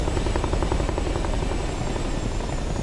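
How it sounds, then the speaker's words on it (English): A Chinook twin-rotor helicopter flying aerobatics at an air show produces a continuous, steady rotor drone with a rapid pulsing beat at moderate distance, with no talk over it. "Kind of like mini aerobatics in the Chinook helicopter"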